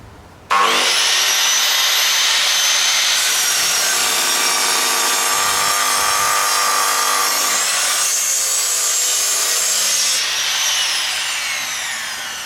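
A Metabo KGS-216M 216mm sliding bevel mitre saw spins up sharply and cuts, a loud close high whine with grinding through the material, changing pitch as the blade passes through and winding down at the end.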